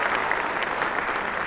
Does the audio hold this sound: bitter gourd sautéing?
no